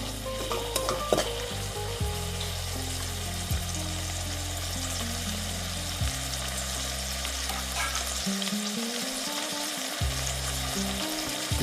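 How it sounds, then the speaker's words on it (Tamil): Chicken frying in oil over medium heat for an Arabian maklouba, a steady close sizzle and crackle that continues unbroken, with background music playing underneath. "இப்போ என்ன கொஞ்சம் அந்த எண்ணெயிலேயே வந்து மீடியமில் வச்சுருக்கேன் நான்."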